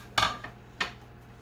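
Two sharp clinks of an ingredient dropping into a bowl of egg mixture, a bright first hit followed by a smaller knock and a second clink, close and clear with no talk.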